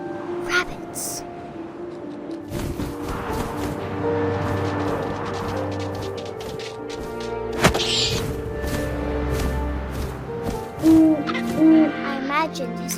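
Owl hoots from the video game What Remains of Edith Finch, a few soft calls near the end over a steady bed of wind and ambient game sound, with a narrating voice in the background.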